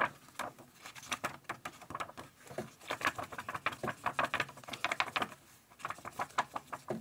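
Laminated book pages are handled up close, giving a run of quiet crinkly taps, rustles and slick crackles in irregular bursts, with no talking.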